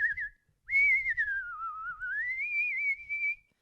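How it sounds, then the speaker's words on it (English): A person whistles a single wavering, sliding tone close into the microphone, loud and clear, with a brief note, a short gap, then one long sustained stretch and no talking. "I can't whistle. I think I was kind of blowing hardcore in the mic, but you get the idea."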